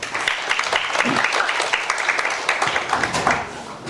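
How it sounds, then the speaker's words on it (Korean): Audience applause at an education discussion event in Korea, steady dense clapping from a crowd lasting a few seconds, fairly close and sustained without pause. "박수 쳐주시죠."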